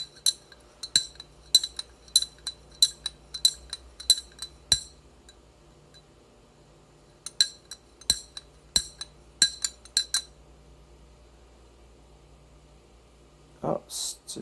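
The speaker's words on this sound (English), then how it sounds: "so I'm just going to stir this one gently" A spoon stirs salt into water in a glass, making light, close clinks against the glass in quick rhythmic bursts separated by a quiet pause, with a brief louder noise at the end.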